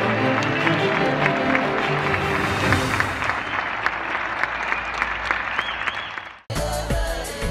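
Loud, sustained applause from a crowd honours cable workers. The dense clapping runs for several seconds before it cuts off abruptly into a different sound.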